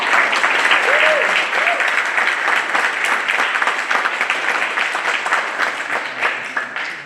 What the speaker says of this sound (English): Can we please have a round of applause for her?